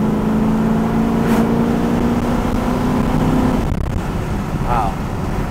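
A 1976 Pontiac Trans Am 50th Anniversary revs and pulls hard under acceleration, its loud, near engine note holding steady before a shift and then carrying on as the car drives past.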